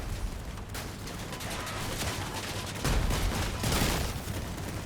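Weapons fire from armed combat vehicles in the game Crossout, a dense continuous barrage of rapid shots that swells louder partway through, with no talk over it.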